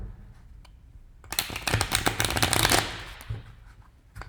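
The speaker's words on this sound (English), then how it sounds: "One more shuffle and we'll get started." Tarot cards being shuffled by hand, a dense burst of rapid riffling clicks in the middle, close and fairly loud, with quieter card handling before and after.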